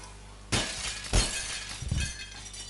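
Glass shattering in the video game Happy Wheels: three loud crashing bursts of breaking glass with tinkling debris, each about half a second apart, heard alone without talk.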